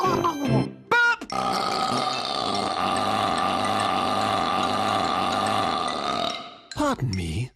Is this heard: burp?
yes